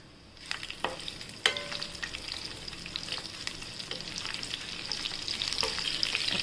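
Cumin seeds and green chilies hit hot oil and sizzle, starting with sharp crackles and pops that settle into a steady, building fry, close and fairly quiet, with no voices.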